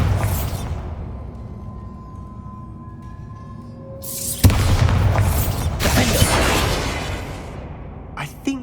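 A Bombarda spell explosion in the Hogwarts Legacy video game: a sharp, loud blast followed by a few seconds of roaring, crumbling debris, after a quieter stretch of game ambience with tonal hums.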